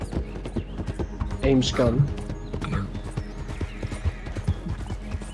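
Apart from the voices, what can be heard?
horse hooves and neighing in video game Red Dead Online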